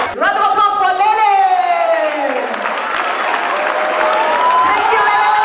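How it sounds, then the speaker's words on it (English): Studio audience applauding and cheering for a performer called Lele at a live variety show, a dense steady wash of clapping with whoops, while an announcer's voice rises over it at the start. "Round of applause for Lele!"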